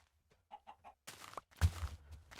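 Chickens in the Minecraft video game cluck in a short run of soft calls, followed by louder flapping and squawking bursts close by, with no talk over them.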